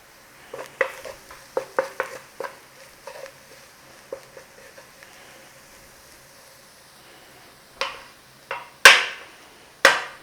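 Flour cooking in a pan with sausages, a series of sharp spoon taps and scrapes against the pan over a faint sizzle, ending with a few louder clanks.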